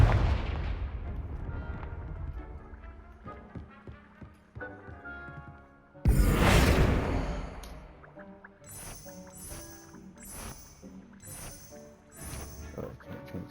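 Booming Confringo spell explosions in the Hogwarts Legacy video game go off over rumbling game music and effects, with one big blast in the middle followed by a string of crackling impacts.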